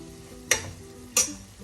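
Cauliflower thoran is stirred in a pan: two sharp scrapes of a spoon land about half a second apart over a low, steady sizzle.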